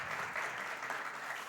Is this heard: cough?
no